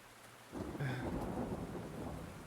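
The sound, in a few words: heavy rain with thunder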